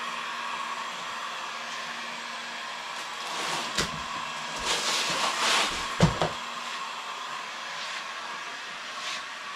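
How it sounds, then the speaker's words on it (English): A heat gun blows steadily on drizzled paint blobs while painting an art bike, giving a constant airy whir with faint knocks and handling noises partway through. "you can kind of heat gun the blobs a little bit"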